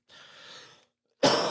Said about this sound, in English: Wild cough today